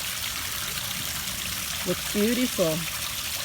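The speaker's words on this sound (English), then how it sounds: "Here's the waterfall over here." A small waterfall in a homemade backyard fish pond trickles steadily in a soft, continuous wash, while a nearby voice briefly says a couple of words near the end.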